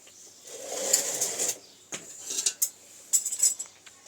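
A cooking pot is lifted off the stove with metallic clinks and scraping knocks of steel, in scattered bursts of near clatter with quiet gaps between; no voices.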